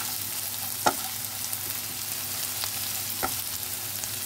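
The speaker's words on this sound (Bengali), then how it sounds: "রসুন আর দেবো যে কুচিয়ে রেখেছিলাম কাঁচা লঙ্কাগুলো, সেগুলো দিয়ে দিলাম এর সঙ্গে, একসঙ্গে ফ্রাই করে নেব।" Chopped garlic and green chillies fry in a pan, a steady close sizzle punctuated by a couple of sharp clicks of a spoon stirring against the metal.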